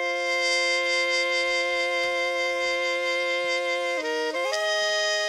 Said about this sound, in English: And then blending that with that breathy trumpet sounds something like this.